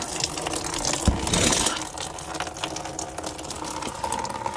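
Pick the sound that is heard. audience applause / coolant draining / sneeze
coolant draining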